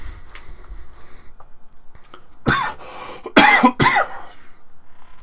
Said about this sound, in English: I'm already coughing up a storm on the mic